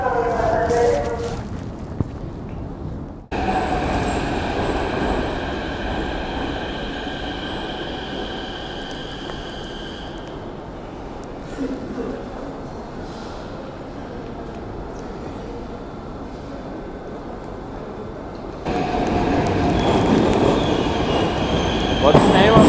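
A train runs through Kyiv with a loud, close, steady rail rumble and some wheel squeal, the sound shifting in character near the start and swelling again near the end.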